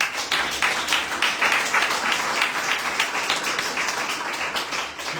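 A church congregation at a French-language deliverance service claps and applauds steadily, a dense sustained wash of hand claps lasting throughout with no pauses.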